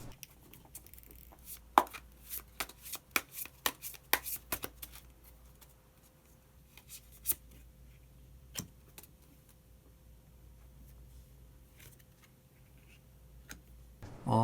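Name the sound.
drawing a tarot card from the deck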